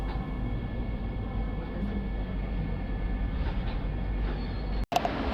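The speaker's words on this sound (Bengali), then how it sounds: "রাত প্রায় 10টার সময় ট্রেন মুড়ি স্টেশন এসে পৌঁছালো।" The Vande Bharat Express pulls into Muri Junction at night with a steady low rumble and rolling hum that holds evenly, ending in a brief click.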